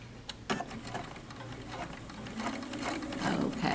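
A sewing machine narrow-hemming fabric runs steadily up close, a continuous mechanical whir with a rhythmic needle chatter that grows slightly louder toward the end.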